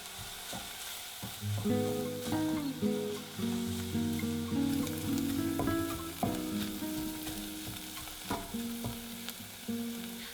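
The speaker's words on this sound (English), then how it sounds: "Add a little bit of red pepper flakes for some heat and sauté everything for a few more minutes" Vegetables with red pepper flakes sauté in a saucepan, a soft continuous sizzle with occasional stirring clicks, set under a prominent melodic music bed that carries through the whole stretch.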